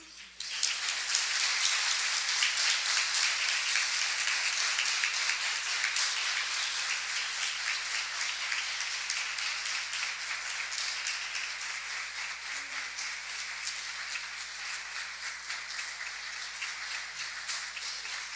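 An audience at a presentation on internet privacy for human rights defenders in Central America applauds Iduina Hernández as she receives a special recognition, a long, steady rain-like patter of clapping that slowly fades over eighteen seconds.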